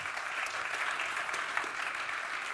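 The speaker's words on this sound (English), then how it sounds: "Round of Thank you. applause." An audience claps after a keynote on artificial intelligence in the automobile industry, a steady, even wash of applause heard at a moderate distance that continues without a break.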